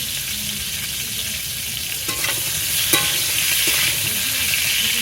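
Pointed gourd (potol) frying in oil in a kadai with a little salt, a loud steady sizzle close by, broken by a few stirring scrapes and a sharp spatula knock midway.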